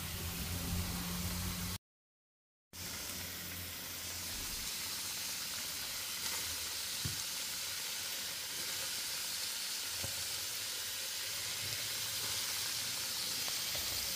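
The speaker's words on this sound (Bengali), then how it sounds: "তা আমি এখন এগুলা ফ্রাই করে নেব।" Coated chicken popcorn pieces fry in oil in a frying pan at medium heat, giving a steady, soft, even hiss and sizzle with faint ticks, no talking over it.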